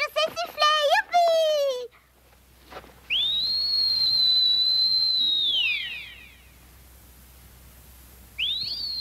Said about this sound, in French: Je sais siffler maintenant, je suis devenue une bergère.